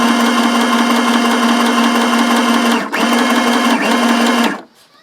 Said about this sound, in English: We're going to go turn the corner with a straight stitch.